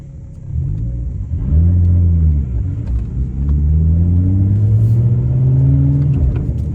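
A BMW 135i with the N55 engine rumbles deeply while driving, close and loud, its low exhaust note rising and falling as the revs shift, with no voices over it.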